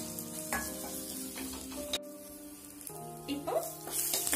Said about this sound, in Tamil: இந்த தோலை வந்து ஆட் பண்ணிட்டு ஒரு 2 நிமிஷம் வதங்கட்டும்